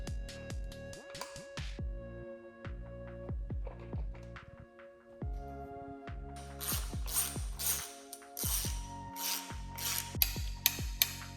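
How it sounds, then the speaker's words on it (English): Torque wrench tightening valve cover bolts to spec on a 3800 engine being assembled for a Pontiac Fiero swap, a series of close, crisp ratcheting clicks in short bursts with metallic taps between them, no talk. "These are being torqued to 7 foot-pounds, which is recommended, and I torqued them from the inside out."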